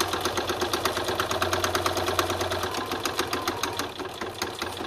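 A sewing machine stitches a leather wrist strap, running steadily with a rapid mechanical chatter and a low motor hum, close and loud throughout with a slight dip near the end.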